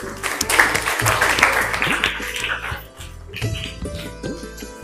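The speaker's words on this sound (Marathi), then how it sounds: "वैभवसाठी टाळ्या" A classroom of students at an educational quiz competition claps for a classmate who gave a correct answer, with dense, loud applause across the first half that thins into scattered claps, with some chatter mixed in.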